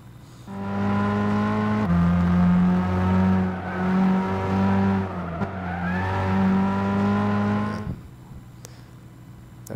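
A race car engine in Gran Turismo 6 drones loud and steady for several seconds, its pitch dipping and climbing as gears change, then cuts off and leaves a quiet hiss.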